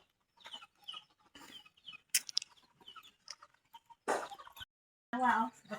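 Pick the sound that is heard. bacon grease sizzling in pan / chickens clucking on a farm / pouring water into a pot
chickens clucking on a farm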